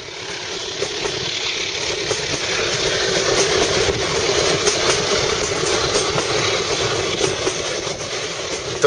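Shosholoza Mail passenger train running on rails between Cape Town and Port Elizabeth, a steady broadband rumble and rattle of the carriages rolling continuously, close and even throughout with no talk.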